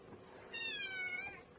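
A domestic cat gives a single clear meow, a short rising-and-falling call heard nearby in a quiet room.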